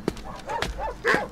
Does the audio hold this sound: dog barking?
yes